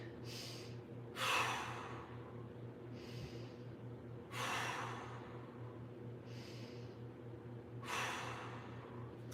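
Slow, audible breaths during a floor mobility stretch with one leg extended, several long inhale-exhale cycles spaced a few seconds apart over a low steady hum.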